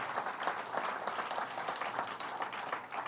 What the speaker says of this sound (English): so let's give him a big round of applause.